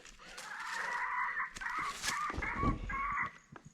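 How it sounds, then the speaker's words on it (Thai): Several loud, harsh red junglefowl calls crow and cackle close by in quick succession in a forest, with rustling and faint background noise between them. "ได้ยินเสียงไก่ไหมคะไก่ป่า"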